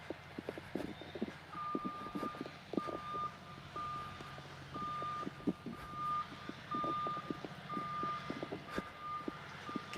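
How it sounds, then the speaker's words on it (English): Truck reversing alarm in a construction zone, beeping at a steady repeated rhythm at moderate distance, mixed with scattered knocks and clattering construction noise and no talking. "it's just really, really loud and lots of construction going on"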